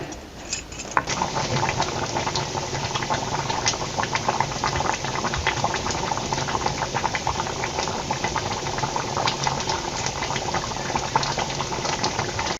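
A curry gravy with black masala and brinjal simmers and bubbles steadily in a pot, a dense continuous boiling texture with small pops and rattles throughout, close and fairly loud with no talking.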